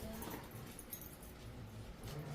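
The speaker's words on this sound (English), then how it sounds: "I'm sorry for the noise in the background. The dogs are playing." Dogs playing in the background of a quiet indoor room, giving faint whimpers and yips at low level.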